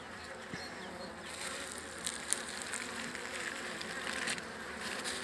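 Honeybees buzzing in a dense, steady drone close by inside a hive, with a few faint clicks and rustles underneath.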